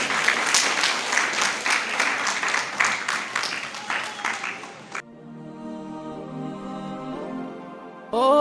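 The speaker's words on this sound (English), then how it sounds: "Please, another round of applause for the lady." At a spoken word poetry performance at a book launch, an audience claps in a dense burst of applause for about five seconds, which then gives way to music.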